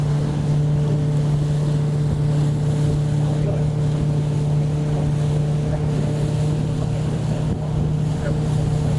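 A yellow submarine tour boat moving on the sea off Rhodes gives a constant low engine drone mixed with wind buffeting and water wash.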